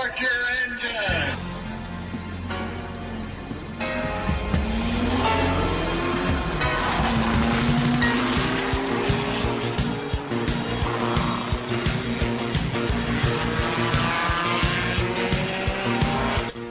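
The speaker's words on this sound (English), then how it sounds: "Gentlemen, start your engine." Race car engines at a speedway, revving and whining with rising pitch sweeps and some tire squeal, mixed under a loud music bed throughout.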